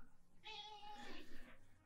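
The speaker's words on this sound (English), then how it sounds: "It's my cat." A house cat gives one drawn-out, wavering meow lasting over a second, faint and close in a quiet room, with no talk.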